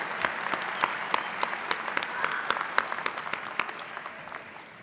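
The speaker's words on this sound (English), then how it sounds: "Let's give him another round of applause" A commencement audience of graduates and guests applauds, giving a dense, continuous burst of many hands clapping at once that fills the hall, steady and fairly loud before tapering slightly toward the end.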